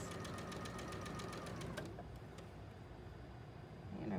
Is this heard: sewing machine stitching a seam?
yes